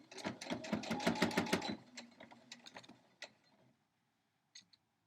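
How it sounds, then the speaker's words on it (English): A sewing machine runs a straight stitch along the edge of a quilt border, a fast close rhythmic clatter that slows into a few separate needle thumps and then stops, with a couple of faint clicks afterward. "I'm just going to do a straight stitch right at the edge."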